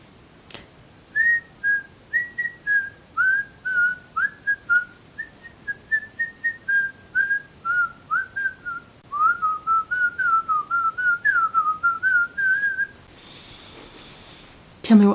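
Someone whistles a bouncy tune up close, in a long run of short rising and falling notes with quick breaths between.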